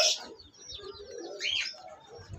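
Pigeons kept in a home loft coo softly close by, a few low murmuring calls mixed with brief higher chirps in a quiet setting, with no talk.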